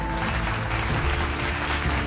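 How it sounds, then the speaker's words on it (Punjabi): Loud, dense applause from a crowd at a political rally in Punjab, cheering women supporters who hold slogans; the clapping runs steadily for about two seconds with faint voices mixed in. "ਇੱਕ ਵਾਰੀ ਜ਼ੋਰਦਾਰ ਤਾੜੀਆਂ ਸਾਡੀਆਂ ਭੈਣਾਂ ਦੇ ਨਾਂ ਤੇ"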